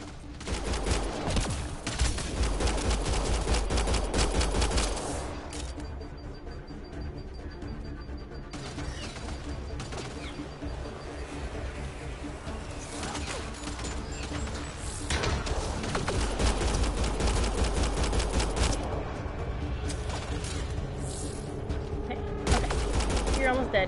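Sustained gunfire from a firefight in Mass Effect Andromeda, dense bursts of rapid shots cracking continuously with brief lulls, loud and close.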